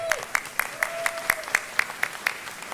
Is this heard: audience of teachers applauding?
yes